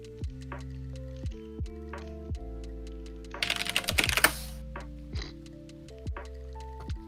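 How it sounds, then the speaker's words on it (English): Quick bursts of keystrokes on a computer keyboard rattle up close, with a dense flurry of fast typing in the middle, all over steady background music. "Your typing speed still is absolutely insane to me."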